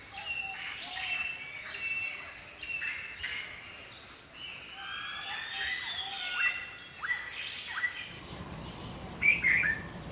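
A flock of galah parrots calls in a busy chorus of shrill, scratchy chirps and squawks, many birds overlapping at moderate distance over a low outdoor background.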